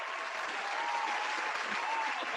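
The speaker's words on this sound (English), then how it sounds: "There's the applause." A short burst of applause plays as a sound effect, a steady, dense wash of clapping from start to finish with no voices.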